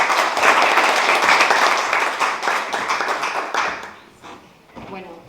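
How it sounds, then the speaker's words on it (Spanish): An audience claps loudly and steadily at a sociology lecture at a university in La Paz, the applause tapering off and fading after about four seconds. "La recibimos con un fuerte aplauso."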